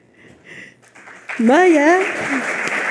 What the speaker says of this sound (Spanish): quiero que le den un aplauso